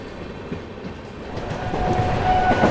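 Mahabodhi Express train rolling along the rails, a steady low rumble that swells slightly louder toward the end, with a faint tonal squeal rising near the close.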